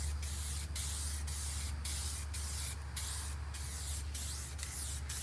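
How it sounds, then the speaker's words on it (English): Short bursts of spray paint hiss onto a car intake in Space Gray metallic, about ten rhythmic passes in a row, close and fairly loud with no talk. "We'll go ahead and get a couple coats of this on."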